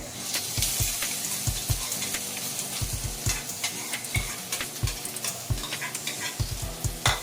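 Garlic and onion sautéing in oil for adobo flakes, a steady sizzle broken by repeated scraping and tapping of a spatula stirring in the pan.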